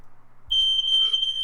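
A smoke alarm sounds from about halfway through, a loud, steady high-pitched electronic tone that holds to the end after a low rumble of handling. No one speaks.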